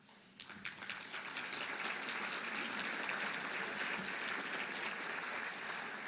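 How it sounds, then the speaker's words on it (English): Applause rises quickly and holds as a dense, even clatter of clapping from an audience at a regional State of the Region address, with a few sharper claps standing out near the start. "Thanks, Ryan, for getting that applause line going"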